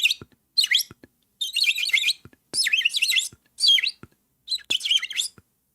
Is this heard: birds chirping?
yes